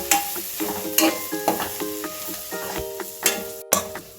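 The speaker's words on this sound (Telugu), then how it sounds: "ఇందులోనే కొంచెం కొత్తిమీర కూడా వేసి కలిపేసుకుందాం." Chili powder and coriander leaves are stirred into a frying pan of boiled taro, with a steady sizzle under repeated scraping strokes of a spoon against the metal pan, close and fairly loud.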